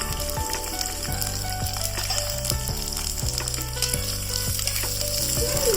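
Small shallots frying in hot oil with mustard seeds and curry leaves for a Kerala sardine curry, a dense close sizzle with crackling pops and occasional stirring scrapes.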